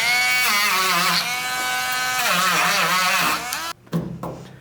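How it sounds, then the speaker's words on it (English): Power grinder whining at a high pitch as it strips rust to bare metal on a first-generation Toyota Tacoma cab, its tone wavering under load before it spins down and stops. "Let's grind this rust off of here first."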